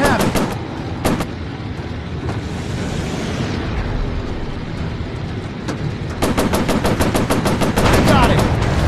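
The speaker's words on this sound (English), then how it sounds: "Damn machine guns." Aircraft machine guns fire in the Warplanes VR air combat game, rapid staccato bursts near the start and a long sustained volley at the end, with rumbling engine and explosion noise between.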